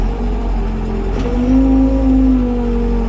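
Engine of a vehicle at an asphalt work site in Germany, idling steadily close by, with a tone that shifts and firms up as a gear is engaged; no talking.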